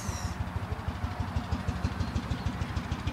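A Lanz Bulldog tractor idles at a harvest festival in Siek, its engine thumping in a rapid, even pulse close by, with a faint brief whistle at the very start and no talking.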